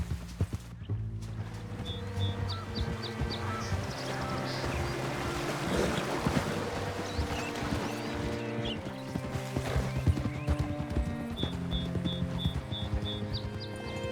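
Horse hooves clip-clop at a steady walking rhythm in the Red Dead Redemption 2 video game, clear and close over soft ambient music, with a few creaky wooden or bird-like squeaks and no speech.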